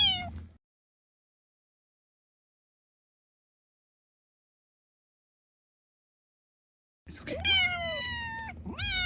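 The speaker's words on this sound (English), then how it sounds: "3 stranded cats are rescued from deep snow and brought back to safety." Cats stranded in deep snow meowing after being rescued: one meow cut off at the start, then several rising and falling meows close by after a long silence.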